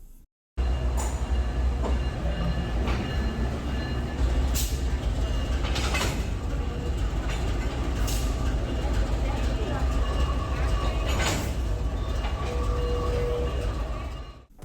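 An Amtrak train hauled by diesel locomotives crawls through a tunnel under Washington, giving a steady loud rumble of rolling wheels and engine with rail clicks and a few sharp squeals, heard up close from on board.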